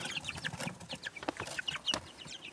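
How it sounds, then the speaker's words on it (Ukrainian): Young chicks in a small poultry enclosure cheep and peep softly in quick, scattered high chirps, fairly close and faint, with no talk over them. "А де наші куряти?"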